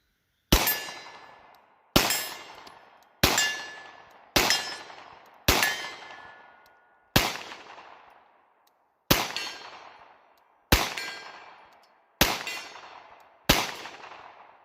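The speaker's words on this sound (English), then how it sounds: "Three out of 5 on the gong." 9mm rounds fired from a Girsan Regard 6 pistol strike a steel gong, giving about ten sharp metallic clangs at irregular intervals of one to two seconds. Each hit rings briefly and fades, with no talk.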